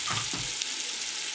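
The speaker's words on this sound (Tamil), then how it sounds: "இந்த ஆனியன் நல்லா ப்ரௌன் ஆகிற வரைக்கும் வதக்க போகிறோம்" Onions sizzling and crackling in hot oil, sautéed until brown for duck biryani, with a couple of stirring scrapes near the start and a steady frying hiss throughout.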